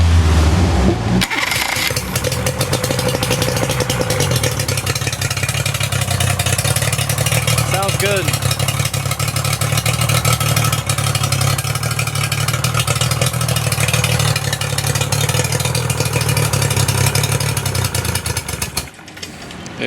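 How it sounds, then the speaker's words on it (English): A Yamaha outboard motor cranks over, fires up and then runs at a steady loud idle for many seconds, close by, with a brief spoken comment over the engine before it cuts off. "I just fired this thing up, and guess what? It's ready to go."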